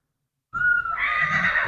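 After a moment of silence, a Marwari mare lets out a loud, close whinny that rises and holds to the end.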